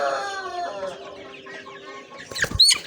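White tiger-breed chicken chicks cluck steadily in a pen, with overlapping calls near and clear throughout and a louder, busier burst of clucking toward the end; no one speaks.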